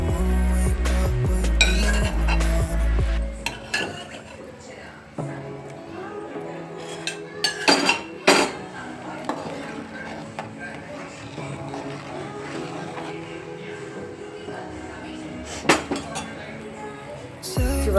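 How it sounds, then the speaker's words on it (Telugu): Pieces of cucumber go into a pot of boiling sambar. Metal pot and utensil clinks and knocks come at irregular intervals, with quieter stirring and faint bubbling between them, and a low rumble is heard at the start. "సాంబార్ మరుగుతుంది కదండి, ఇప్పుడు దోసకాయ ముక్కలు వేసుకోవాలి."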